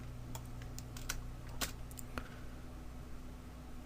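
Computer keyboard keys clack several times at an uneven pace, crisp nearby clicks that include a press of the delete key over a faint electrical hum.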